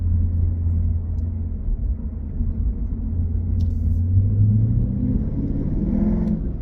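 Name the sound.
car exhaust rumble from throttle blip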